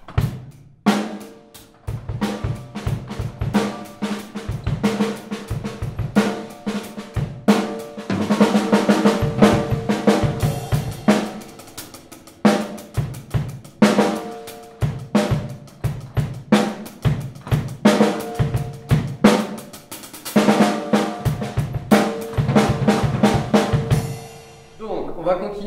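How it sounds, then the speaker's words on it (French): A drum kit is demonstrated at a music school, with dense rhythmic hits of kick, snare and cymbals played loudly and continuously for about 25 seconds. "Voici le son de la batterie."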